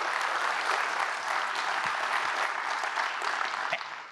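Audience at a Long Beach civic event applauds its Space Beach partners, a full steady round of clapping from a crowd that stays even for several seconds without talk.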